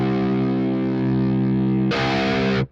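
An open low E on a heavily distorted metal guitar in standard C tuning sustains as a thick droning chord, then switches abruptly to a brighter, thinner tone before stopping short.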